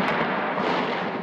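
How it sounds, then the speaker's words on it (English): Loud, dense crackle of gunfire on a bridge during anti-government protests in Egypt, a continuous roar of rapid shots blending together without pause. "Gunfire on the bridge aimed at anti-government protesters."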